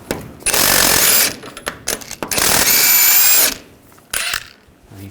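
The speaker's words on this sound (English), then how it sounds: "Using a 24mm socket, we're going to take the jam nut off" A power impact tool drives a 24mm socket to remove the steering rack jam nut on a 2007-2013 Chevrolet Silverado, loud close bursts of rattling whirr, two long runs separated by shorter blips and pauses.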